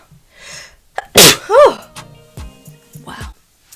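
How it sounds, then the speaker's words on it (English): A woman lets out one loud, close sneeze with a sharp burst, followed by a rising vocal tail, set between quieter breaths and a few soft murmurs of speech. "I'm gonna sneeze."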